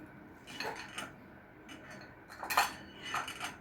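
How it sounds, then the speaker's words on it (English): Chopped eggs are stirred in a bowl for a cold ramen noodle chicken salad, making soft scattered clinks and scrapes of a utensil against the bowl, faint and intermittent with quiet pauses between. "Let me stir my chopped eggs around a little bit in here"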